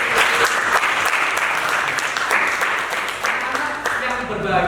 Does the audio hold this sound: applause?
yes